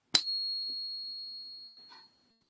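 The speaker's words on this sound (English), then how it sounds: "when you ping a coin, if you can hear it well, the resonation just goes on and on and on" A counterfeit coin pinged on a pocket finger gives one sharp metallic strike and a bright, high ringing tone that sustains for nearly two seconds, with a faint touch of handling near the end.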